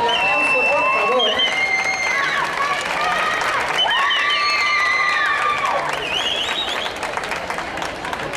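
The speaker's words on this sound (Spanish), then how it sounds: "El aplauso, por favor." A school audience applauds and cheers at a Day of the Dead living Catrina costume contest, with shouts and whistles riding over a dense, steady wash of clapping that continues throughout.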